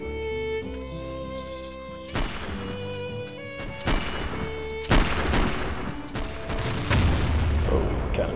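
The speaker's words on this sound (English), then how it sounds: "Oh, cannon fire." Cannon fire in a US Civil War video game mod: several heavy booms and sharp cracks at irregular intervals, loud and close, over a sustained tonal bed.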